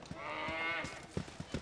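A cow moos in the Baldur's Gate video game, one sustained low bellow lasting under a second, followed by a few soft thuds.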